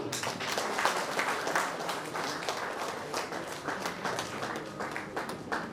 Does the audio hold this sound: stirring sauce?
no